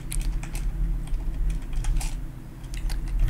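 Code is typed on a computer keyboard in quick, irregular bursts of light key clicks, close by over a low steady hum, with no speech.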